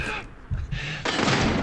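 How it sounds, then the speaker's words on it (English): Machine gun fire in the first-person shooter Call of Duty: Modern Warfare during the Verdansk campaign mission, a loud sustained burst of rapid gunfire following shorter shots, with a voice briefly talking under the din. "This machine gun is killing us"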